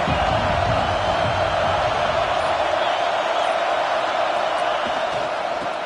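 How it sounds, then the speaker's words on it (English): A large stadium crowd at a USC vs Notre Dame college football night game roars in a constant, dense wall of cheering that fills the whole stretch; a commentator's voice sits faintly beneath. "This crowd ready to make its presence known"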